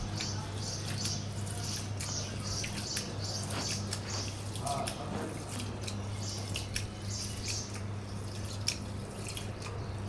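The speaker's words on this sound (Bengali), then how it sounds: "আমি চাল আর 2 রকমের ডাল দিয়ে একদম সুন্দর করে ধুয়ে নেব।" Rice and two kinds of lentils being washed for khichuri in a kitchen: a steady trickle of running water with soft grains shifting and light drips over a constant low hum, with no talking.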